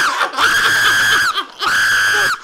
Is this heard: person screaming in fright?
yes